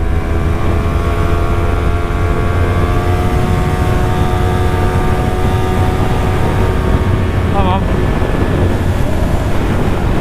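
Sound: strong wind while riding motorcycle

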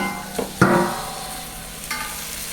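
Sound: onion, garlic and tomato sizzling while frying in pan

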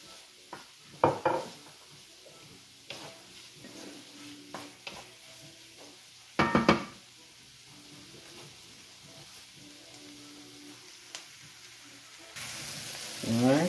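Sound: ginger and garlic frying in a pan

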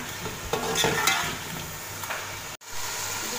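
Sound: frying and stirring with salt in a pan

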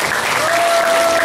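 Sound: audience in a hall applauding

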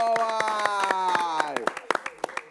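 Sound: applause for callers from San Cristóbal

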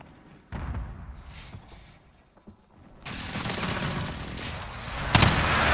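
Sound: allied precision airstrike in Call of Duty: Modern Warfare (video game)

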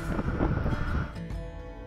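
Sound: strong wind

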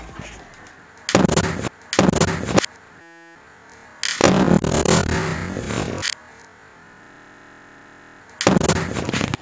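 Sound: explosion of gas ignited in a plastic bottle

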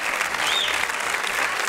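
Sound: applause for Andrea

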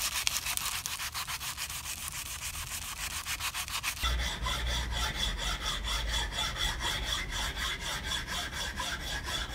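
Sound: filing wood along the grain

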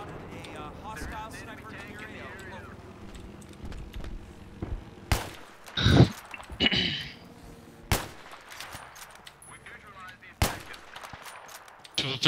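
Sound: gunfire in video game Battlefield 3

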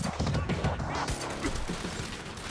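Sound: pistol gunfire in the video game Quantum Break

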